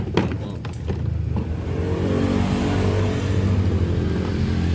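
A Honda Beat FI scooter engine with excess throttle and black exhaust smoke starts up and keeps running at a loud, steady high idle, its low rumble continuous and close throughout.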